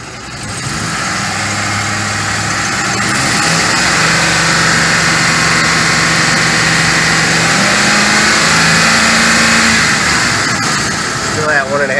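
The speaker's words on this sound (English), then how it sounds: "All right, the engine is at operating temperature." A car engine at operating temperature idles steadily with a low, even hum that shifts pitch slightly partway through, close by and continuous.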